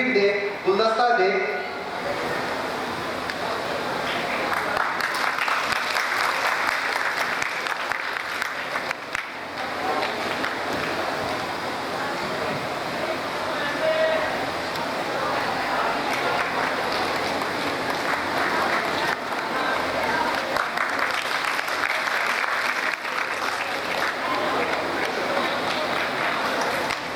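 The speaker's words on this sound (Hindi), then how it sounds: "जोरदार तालियां बजाइए जरा" Sustained applause from an audience at a Muslim educational conference in Amravati, a dense, even wash of clapping that carries on for nearly half a minute, with a voice speaking faintly under it.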